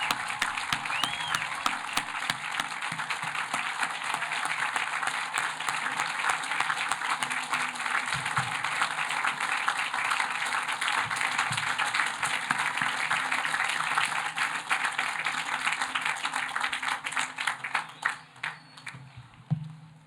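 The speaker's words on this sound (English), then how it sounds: "Can we have applause for our class of 2022 graduates?" Sustained applause from a large commencement audience celebrating Washington College's class of 2022 graduates, a steady dense roar of clapping that holds for about eighteen seconds before thinning and fading out near the end.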